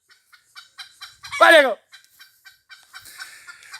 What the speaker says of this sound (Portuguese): Ó o galo cantando lá também.